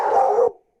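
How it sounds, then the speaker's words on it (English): Dog giving a single short bark that cuts off quickly, heard over the microphone of an online meeting. "whoever's dog that is, if you could mute, we know the feeling."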